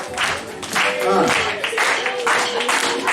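Arena crowd clapping during a sports event halftime, a dense steady wash of applause with a few raised voices mixed in, loud and continuous throughout.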